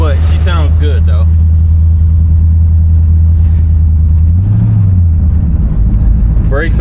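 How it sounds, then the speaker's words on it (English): Exhaust rumble from a 1968 Buick Electra 225 with a 430 V8 and an aggressive exhaust, a low steady drone with a brief rev swelling midway, heard from inside while driving with someone talking over it. "The exhaust is a little bit aggressive for, you know, for this style of car, but she sounds good though."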